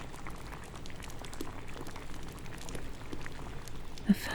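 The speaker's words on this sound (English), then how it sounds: "The water is boiling." Water boiling steadily at the moon well while a potion is being brewed, with a continuous bubbling rumble and scattered pops close up, no voices.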